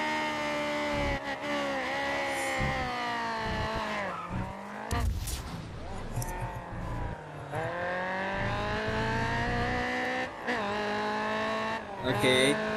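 A race car engine in GRID Autosport revs hard and continuously, its loud rising and falling whine shifting pitch through gear changes, with brief tire squeal and a voice talking over it.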